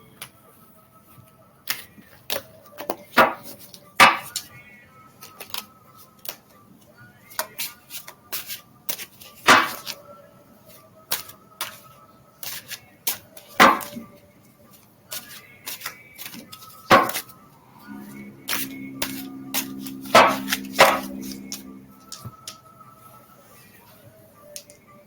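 Tarot cards shuffled and pulled during a reading: a run of sharp papery snaps and flicks at uneven intervals, close to the microphone, with a brief rubbing shuffle near the end and no talk.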